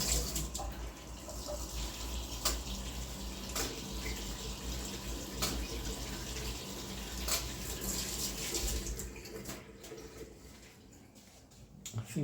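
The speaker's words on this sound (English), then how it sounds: "I'm just going to rinse out this pipette." Tap water runs steadily into a sink while a pipette is rinsed out during yarn dyeing, a close continuous splashing stream with a few faint clicks, no voices.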